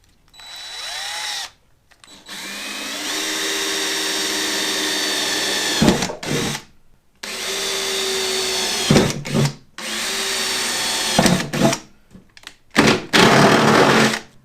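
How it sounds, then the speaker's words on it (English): A power drill whirs in several bursts drilling pilot holes, each run steady and high-pitched, separated by short pauses and clunks, close up with no talking. "I'm going to drill my pilot hole in each one."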